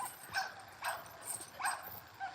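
A dog works a hog on a spring pole, giving repeated high yips and whimpering barks in an uneven rhythm, four or five clear bursts, close and fairly loud over faint background noise.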